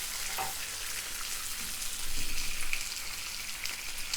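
Bacon, sausages and eggs frying together in a pan give a steady, close hiss of sizzling fat, swelling briefly louder midway, with no talking.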